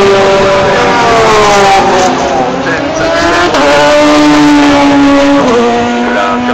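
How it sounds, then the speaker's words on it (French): The number 8 Toyota race car at the 24 Hours of Le Mans passes through a chicane, its engine loud and close, revving and shifting through rising and falling pitch sweeps, with commentary talking over it. "la Toyota numéro 8 de Nicolas Lapierre qui est en 3ème position et dans les 1 d'hier ici passe la chicane"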